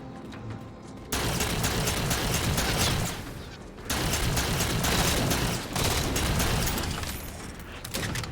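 Sustained automatic gunfire from the game Halo 4, played on Legendary difficulty, rattles in dense, loud bursts with brief gaps between them, close and continuous for several seconds.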